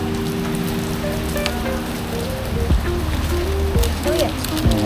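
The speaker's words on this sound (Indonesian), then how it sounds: "Lagi hujan gini." Rain falls steadily during a motorcycle tour in North Sumatra, a broad hissing patter on surfaces under a low rumbling hum, with occasional faint tones threading through.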